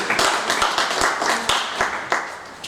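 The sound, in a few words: audience applause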